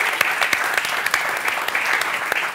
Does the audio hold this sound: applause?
yes